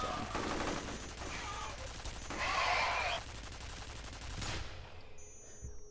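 Rapid sustained bursts of turret gunfire in the shooter game F.E.A.R., continuous and fairly loud, cutting off abruptly near the end.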